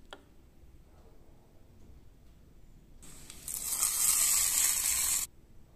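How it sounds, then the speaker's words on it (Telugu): A hot tempering with asafoetida poured into a chutney gives a sudden bright, hissing sizzle that lasts about two seconds and then stops abruptly, following a quiet, faint background. "తర్వాత కొంచెం ఇంగువ వేసుకొని మనం ఈ పోపుని చట్నీలో వేసేసుకుంటే"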